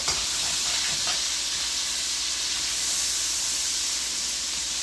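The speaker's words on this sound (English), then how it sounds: "So right now we're browning the chicken in 2 tablespoons of butter and 1/3 cup of olive oil" Steady sizzling and hissing of chicken browning in butter and olive oil, loud and continuous throughout with no talking.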